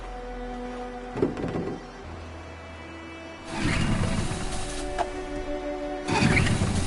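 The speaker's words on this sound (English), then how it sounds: "Let's get that engine going." A boat engine in the video game Detroit: Become Human cranks, then roars into a loud, steady running rumble that swells again near the end, with no voices.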